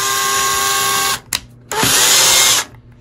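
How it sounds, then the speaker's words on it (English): A power drill fitted with a 3/16 bit bores into bathroom drywall: a loud, close high-pitched whir, a short pause with a brief click, then a second burst of drilling that winds down to quiet. "we actually had to go up to a 7/32 drill bit to drill this hole for this anchor"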